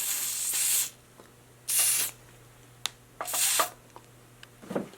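T9 lubricant sprayed from an aerosol can into bicycle headset bearings, three or four short bursts of close hiss separated by brief pauses, with a faint click or handling noise between them.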